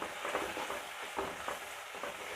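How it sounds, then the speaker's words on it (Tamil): Small shallots and large onions sautéing together in a pan for a fish curry, with a steady soft sizzle and occasional stirring scrapes throughout. "சின்ன வெங்காயம் பெரிய வெங்காயம் ரெண்டுமே சேர்ந்து நல்லா வதங்கணும்"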